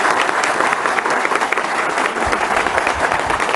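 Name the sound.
audience applause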